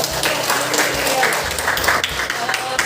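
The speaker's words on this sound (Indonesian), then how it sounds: "Tepuk tangan dulu" A classroom of students claps for a classmate, scattered uneven applause mixed with background voices and chatter, moderately loud and close throughout.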